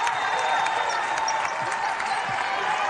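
An arena crowd at the Coliseum roars and claps during a West Virginia vs Oklahoma college basketball game after a West Virginia steal, a loud, sustained wash of cheering with a commentator's voice faintly underneath.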